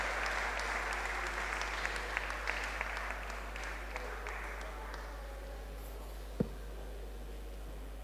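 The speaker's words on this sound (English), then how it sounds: "Let's give a round of applause for Colin Spencer" Audience applause at a DLP party conference evening, a steady crowd of clapping that gradually thins out and fades, with a single sharp knock near the end.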